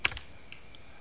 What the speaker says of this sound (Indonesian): Nah, ini bisa kita ketik juga.